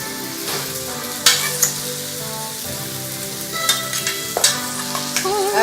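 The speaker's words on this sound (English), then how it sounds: "And then I'm just gonna give this a nice stir." Spoon stirring a honey-drizzled dish, a steady soft scraping and sizzling texture with a few sharper clinks scattered through, close and moderately loud, no talking.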